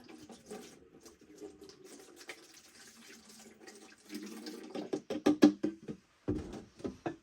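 Liquid microbes poured from an 8-ounce bottle into a jug, a soft steady trickle that turns into louder glugging splashes toward the end, close and without speech.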